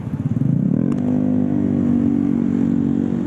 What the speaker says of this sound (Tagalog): Ang daming mga motor.